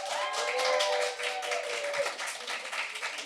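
Live audience at a podcast taping claps and cheers to vote for a song, a dense wash of hands and voices throughout, with a brief lull midway before picking up again.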